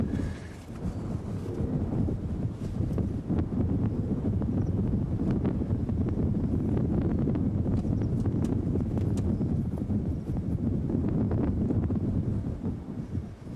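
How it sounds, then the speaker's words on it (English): Strong wind gusting steadily through small plants on an African safari, a loud continuous roar buffeting the microphone throughout with no pauses. "you can see the little plants, how strong this wind is blowing through here"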